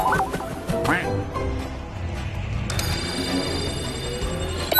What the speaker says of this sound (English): What are all you lab ducks doing out here?